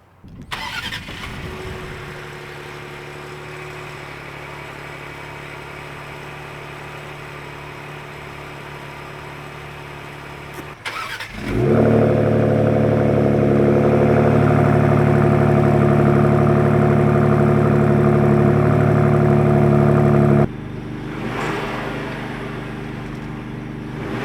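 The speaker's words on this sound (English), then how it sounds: "let's do a sound comparison from the stock exhaust to the thermal 3-inch exhaust" A 2025 Ford Explorer ST with an aftermarket 3-inch exhaust idles, then revs up into a loud, deep, throaty drone that holds steady before cutting back to a quieter idle.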